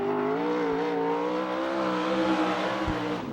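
A USAC/CRA sprint car with a Stealth chassis and Shaver engine races a timed lap at Hanford, its loud, high engine note holding a steady howl with small throttle dips, close and continuous.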